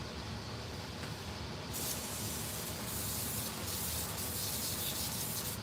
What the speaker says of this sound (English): So I'm going to spray my rag with some parts cleaner.